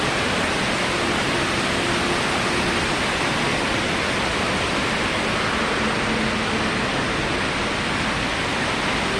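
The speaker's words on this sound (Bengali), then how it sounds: "এটা হচ্ছে সে আর্টিফিশিয়াল ঝর্ণা না" An artificial indoor waterfall fountain in Dubai Mall pours down in a continuous, even roar of falling water that fills the space with steady broadband rushing and no breaks.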